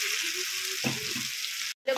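Taro stolons cooking with prawns in a pan, a continuous close sizzle broken by a brief clatter of stirring and a short pause near the end.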